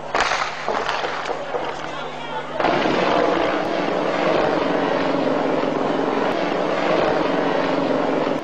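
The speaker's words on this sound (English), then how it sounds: "The helicopter is throwing grenade on the house." Helicopter hovering over houses in Tivoli Gardens, Jamaica, during an armed operation, a loud continuous rotor and engine drone overhead with voices mixed in.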